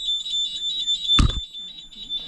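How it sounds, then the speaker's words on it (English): Pulsing electronic alarm beeping inside a 2015 Bailey Cadiz caravan, loud and close and repeating in rapid bursts, with a brief thud partway through. "That's the alarm going off, because I've set that earlier"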